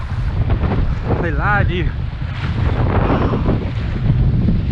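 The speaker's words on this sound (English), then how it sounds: "Wind relentless." Strong wind buffets the microphone during kayak fishing on the water, a loud constant roar with lapping water beneath, while someone speaks briefly over it.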